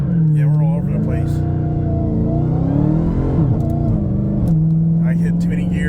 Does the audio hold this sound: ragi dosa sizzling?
no